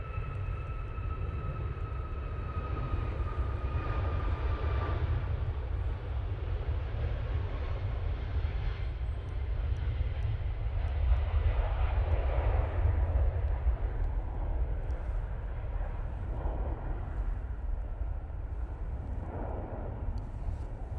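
Turkish Airlines jet departing Manchester Airport, a steady broad engine roar with a strong low rumble and a faint whine, holding loud and even for about twenty seconds with no talk.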